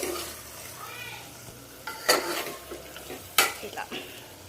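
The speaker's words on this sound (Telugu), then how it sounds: "ఇవి వేసుకున్నాక కలిపేద్దాం." Spices and green chillies are stirred into a bottle gourd curry in a pan, with soft scraping and a few sharp clinks of the spoon against the pot over a low sizzle.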